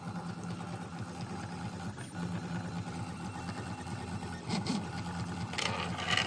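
A 3D printer's stepper motors run while it prints a part, giving a steady mechanical whir and buzz with rhythmic pulsing and a few brief higher chirps, close and fairly quiet with no voices.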